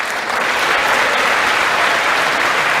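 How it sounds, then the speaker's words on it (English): A State of the Union audience stands and applauds, a dense, steady wash of clapping at full volume for the whole stretch, with no clear voices breaking through. "everyone will stand and clap for that"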